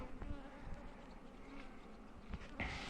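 Honeybees fly around a beehive, making a steady droning buzz that rises and falls as individual bees pass close, with faint background noise.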